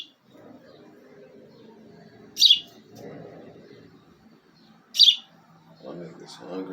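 Small birds give two short, high chirps a few seconds apart, sharp and fairly near, over quiet low background rumble and faint murmuring.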